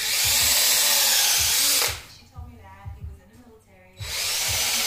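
Power drill boring a hole into a wall after studs are marked, loud whining bursts at the start and end with a quieter gap in between where people talk.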